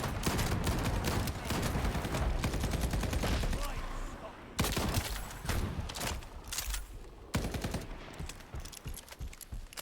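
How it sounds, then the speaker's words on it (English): Automatic weapon fire in the Shatterline video game: dense rapid bursts of shots, loud and close, broken by short pauses, with some other game sounds mixed in. "He's got an automatic weapon."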